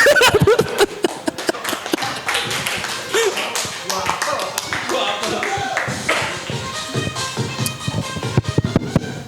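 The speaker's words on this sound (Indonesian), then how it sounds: "boleh tepuk tangan buat Taman Eden" A small group claps in a talk-show studio, a burst of quick, sharp hand claps that thins into scattered taps, with people talking over and between them.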